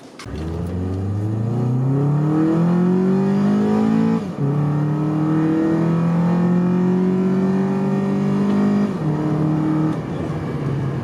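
A Honda Accord Euro CL9 engine with a cold air intake drones loudly from inside the cabin, revving up steadily through the gears with two shift dips, no talking.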